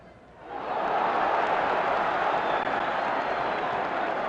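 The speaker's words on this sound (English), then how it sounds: "Patterson brought the crowd up with that one" A boxing crowd at a 1972 Floyd Patterson vs Oscar Bonavena heavyweight fight rises into a loud, sustained roar of cheering and applause that swells within the first second and holds steady.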